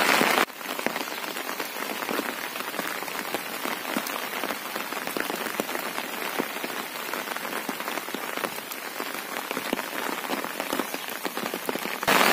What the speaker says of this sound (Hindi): जब बारिश होने लगती है तो लोग कहते हैं अरे यार इतनी बारिश की क्या जरूरत है यार